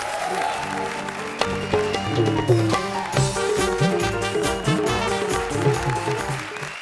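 A studio audience at a comedy show applauds over loud music, the clapping blending with a busy backing track and rising and falling in bursts.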